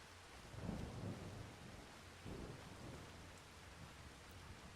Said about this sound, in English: Got some thunder.